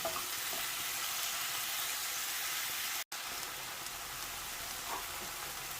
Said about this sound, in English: now I'm going to cook these for about 5 to 10 minutes until the mushrooms release their liquid